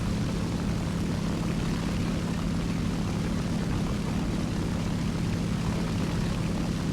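The propeller engine of an IL-2 attack aircraft in the War Thunder game drones as a steady, low, continuous hum with no change in level and no voices.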